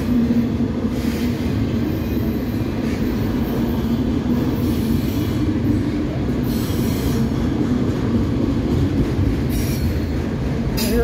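A southbound CSX autorack freight train with a mid-train distributed power unit rolls past on track one, a close, steady heavy rumble of wheels with metallic squeal and clatter throughout.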